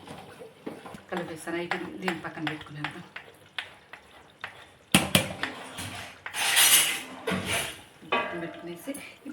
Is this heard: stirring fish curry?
yes